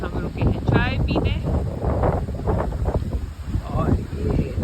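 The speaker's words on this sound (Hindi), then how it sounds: "इतनी तेज हवा चल रही है।" Near the Manthoka waterfall in Shigar, Pakistan, a strong wind roars in loud, continuous rumbling gusts across the microphone, while someone talks underneath the blustery noise.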